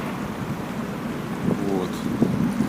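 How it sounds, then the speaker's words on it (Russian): Strong outdoor wind roars and rumbles against the microphone in a continuous wash, with a voice faintly talking beneath the gusts. "дует очень сильный ветер"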